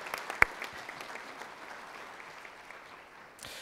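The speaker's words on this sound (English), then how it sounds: "Let's give everybody, these folks, a round of applause for willing to stick their neck out." Audience at an electric cooperative's annual meeting clapping, a faint scattered round of applause from a modest crowd held steady for a few seconds.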